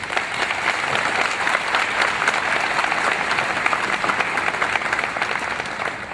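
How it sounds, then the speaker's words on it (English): Dense, steady audience applause fills a law school commencement ceremony hall, many hands clapping continuously at even loudness throughout. "Please give them a round of applause."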